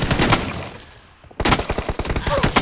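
Automatic gunfire in a video game battle. A rapid burst of shots is followed by a short lull, then a second dense string of close, punchy shots, with faint voices underneath.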